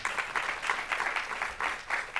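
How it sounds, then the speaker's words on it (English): Seminar attendees at a women's welfare event on neo-humanism break into soft, steady applause, a sustained patter of many hands heard at a moderate distance. "please don't hesitate to clap."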